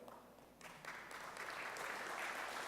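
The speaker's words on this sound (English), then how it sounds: "It deserves a round of applause." Audience applause at a lecture on the Nigerian experience, starting faint and building into a steady spread of clapping that holds at moderate level to the end.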